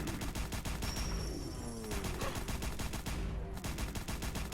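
An automatic Institute plasma rifle fires in Fallout 4, a dense, rapid, evenly spaced stream of loud shots that runs without a break, with no talk.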